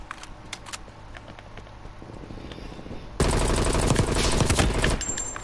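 Automatic gunfire in Call of Duty Black Ops Cold War alpha multiplayer, with scattered shots early, then a dense sustained burst of rapid fire over the last two seconds.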